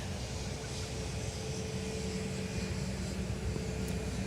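An Icelandair jet taxiing along taxiway Mike at MSP airport, heard from about 300 feet away as a steady, moderately loud engine whine and rumble holding level throughout.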